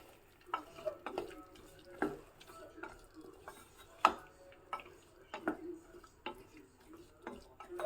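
Green peas and peanuts stirred in hot ghee in a pan, with scattered scraping and clinking strokes of a spoon over a soft sizzle, close and fairly quiet.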